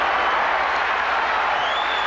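Crowd noise fills a basketball arena at a college game between Michigan State and Iowa, a dense steady roar of cheering and clapping heard from a distance that holds level throughout.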